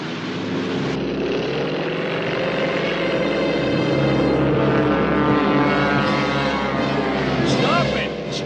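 Urko's propeller airplane in the animated series Return to the Planet of the Apes, a steady, loud engine drone with a buzzing propeller that holds nearly unchanged for the whole stretch, with no voices.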